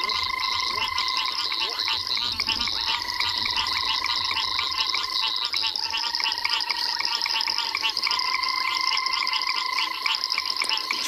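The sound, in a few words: caco frogs calling, high-pitched trilling, with other frogs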